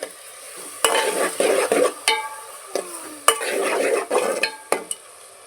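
Spoon stirring a pan of chopped onions, two tomatoes and three green chillies for a curry, with clanks against the metal pan over a light frying sizzle, in bursts of scraping strokes.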